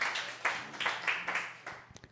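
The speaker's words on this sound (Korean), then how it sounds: "선물 받은 거로 간주하고 박수 보내주시기 바랍니다." A church congregation at Yangpyeong Okcheon Church claps together in a short, close burst of applause that rises, sustains briefly and trails off into a few scattered final claps.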